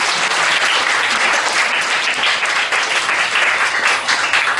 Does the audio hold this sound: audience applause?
yes